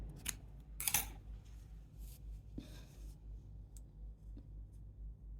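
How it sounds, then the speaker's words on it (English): Scissors snipping through yarn while crafting a Christmas wreath: two or three sharp, close cuts early on, followed by softer handling rustles in a quiet room. "Now we'll cut my yarn."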